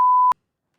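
A short, loud, pure-tone censor beep from a bleep button sounds once for about a third of a second, then cuts off abruptly into silence.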